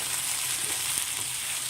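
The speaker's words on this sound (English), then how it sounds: "Okay, so I'm throwing in the ladyfingers now." Okra (ladyfingers) and onions stir-frying over high heat in a pan, a loud, continuous dense sizzle with no talking.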